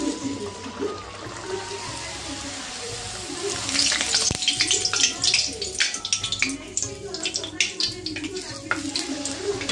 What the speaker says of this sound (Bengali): তো এখানে লুচি ভাজতে আরম্ভ করে দিলাম।